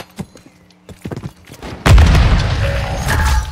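A grenade explodes in Call of Duty Modern Warfare 3 hardcore multiplayer, a sudden loud close boom with a long rumbling tail, preceded by scattered thumps and faint game noise.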